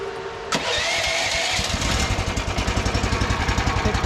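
A Temu mini skid steer's small engine is started with the choke on: a sharp click, then the motor catches and settles into a loud, close, rhythmic chugging run.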